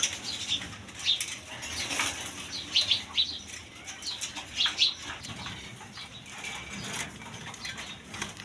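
Crested Rasgolla pigeons flap their wings in repeated short bursts of fluttering, fairly close, with faint cooing and chirps between the flaps and no talking.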